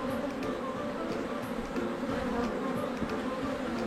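Honeybees stream out of an opened beehive full of honey, a dense continuous buzzing hum close by, steady and unbroken.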